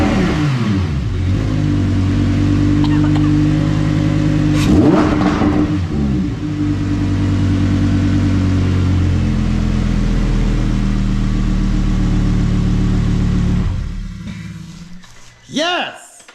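A custom Lamborghini Huracan fitted with new intakes cranks, fires and settles into a loud steady idle with a few sharp revs, then cuts off and gives a final quick rev at the end, with a person talking over it.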